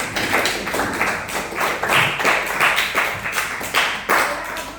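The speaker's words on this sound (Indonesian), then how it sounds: "Kita berikan aplaus untuk kelompok ini." A student audience at a campus Islamic talk applauds a presenting group, a dense burst of many hands clapping close by, loud and sustained with uneven rhythm.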